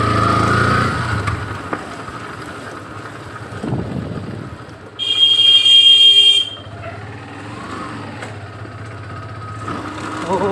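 Motorcycle ridden at night along a rough village road, a steady low engine hum with bumps and rattles, and a brief bright horn-like burst midway; no talking.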